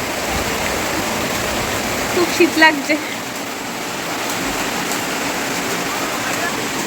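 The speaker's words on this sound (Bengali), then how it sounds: "কত বৃষ্টি হচ্ছে দেখো" Heavy rain blows onto a balcony in a continuous close roar, and a voice speaks briefly partway through over the downpour.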